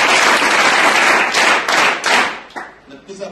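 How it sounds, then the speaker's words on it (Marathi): An audience at a school gathering claps loudly for a student, a dense burst of applause that thins out and fades into scattered claps near the end. "आपण सगळेजण त्याच्यासाठी जोरदार टाळ्या वाजवा।"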